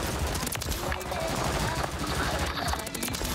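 Renetti pistol fire in MW3 Season 3 multiplayer, a dense rapid string of shots over busy game noise and effects throughout, loud and close.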